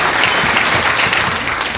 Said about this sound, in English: give yourselves a round of applause for hanging in there day 3